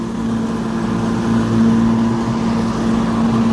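Battery-powered GTM ride-on lawn mower driving across slightly uneven grass, giving a steady, continuous motor drone with a faint whine, close and fairly loud, with no talking.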